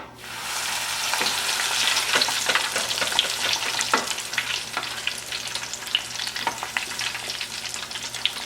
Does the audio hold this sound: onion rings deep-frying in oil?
yes